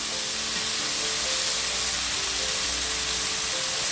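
Tomatoes sauté in a pan for Kongu-style bitter gourd thokku, a steady close-up sizzle hissing evenly throughout with no voices.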